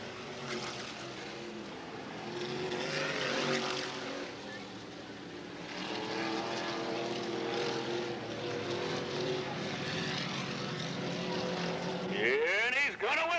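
Race cars lap a speedway track at an open competition show, engines droning and rising as they pass at a distance, with an announcer talking over the noise.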